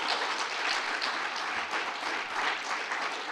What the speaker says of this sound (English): And how about one more round of applause for all of our graduates today?